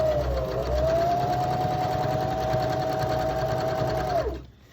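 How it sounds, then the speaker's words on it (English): A sewing machine stitching around the edges of a fabric napkin, a steady close whirring hum with rapid needle clatter that runs evenly before stopping abruptly near the end. "So without back stitching, just go ahead and sew around the four sides."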